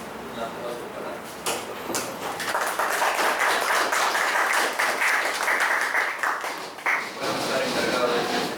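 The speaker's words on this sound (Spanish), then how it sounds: "tenemos al profesor Alejandro Paredes, un aplauso para él" Audience applauding for Professor Alejandro Paredes as he is introduced at a mathematics seminar, a dense wash of many hands clapping that swells after a second and holds steady, with a few voices underneath.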